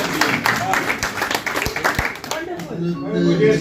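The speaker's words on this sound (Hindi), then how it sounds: "तालियां बजाओ।" Audience clapping fills the room at a live tribute show for the poet Mirza Ghalib, a steady run of close hand claps mixed with voices talking over it.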